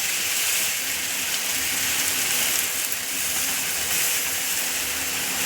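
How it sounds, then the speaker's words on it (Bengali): Bay leaf, ginger, garlic and onion fry in hot oil, a dense, steady sizzling hiss that holds close and even throughout with no voice over it. "তেলটা গরম হয়ে গেছে, এবারে তেজপাতা, আদা, রসুন, পেঁয়াজ আমি দিয়ে ভালো করে লালচে লালচে করে ফ্রাই করে নেব।"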